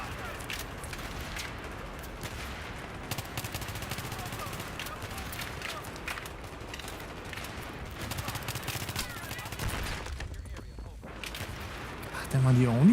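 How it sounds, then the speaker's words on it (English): Continuous gunfire and heavy battle noise in the video game Battlefield 3, dense overlapping shots and explosions filling the whole stretch, loud and unbroken, with a voice talking over the combat. "Am I the only one shooting here on the right side?"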